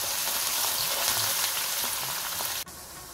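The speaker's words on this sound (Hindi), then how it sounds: "और इसके साथ ही मैं ऐड करने लगी हूँ प्याज" Onion sizzling steadily in hot oil with cumin seeds and bay leaves, a close, continuous frying hiss with faint stirring, cut short by a brief drop near the end.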